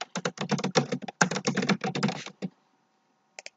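Rapid bursts of clicking on a computer keyboard, two quick runs of keystrokes with a brief pause between, then silence broken by a couple of final taps.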